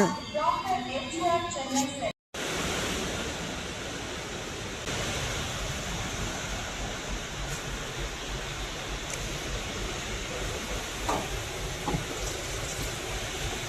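A small four-coach passenger train running from Erode to Mettur Dam gives a steady, broad rumbling roar from inside the coach, and a voice speaks briefly at the start.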